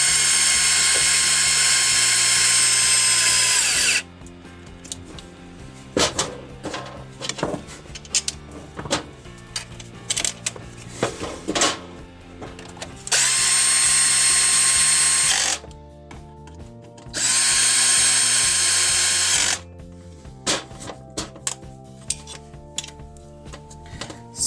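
A power tool whirs in long steady high-pitched runs while bolts are tightened on a string trimmer during clutch spring replacement, with ratcheting clicks and clanks of handling between bursts, close and loud.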